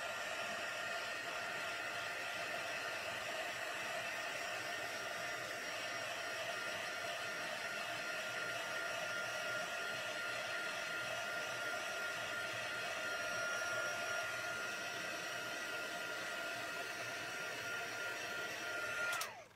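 A heat tool blows continuously to dry alcohol on watercolor paper, a steady loud whooshing roar held for the whole stretch before cutting off abruptly.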